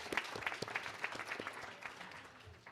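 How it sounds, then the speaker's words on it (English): Audience applause at the Manitou Springs municipal candidate forum, a fairly quiet, dense patter of many hands clapping that stays steady for a couple of seconds and then starts to thin and taper off. "the candidates deserve applause"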